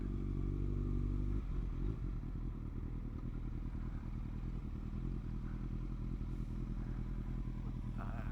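A large motorcycle cruising through Malaysian traffic, its engine a steady low drone with wind rumble, louder and rougher for the first second before settling into an even hum.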